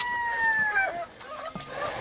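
Backyard chickens cluck in their pen while a rooster crows a drawn-out call near the start, with scattered clucks and squawks following, close by and moderately loud.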